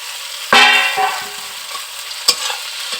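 Fried vegetables are tipped into sizzling onion in a pan and stirred, starting with a loud burst of frying, then softer scrapes and a sharp clack of the spoon, close by with no talking.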